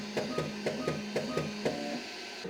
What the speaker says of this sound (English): I would say this is not the most quiet printer that I had.